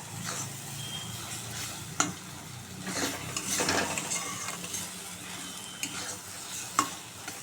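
Ridge gourd frying with onion in a pan, an even sizzle with a spatula scraping and stirring now and then, a few sharp clinks of utensil against metal; close and fairly quiet, no talking.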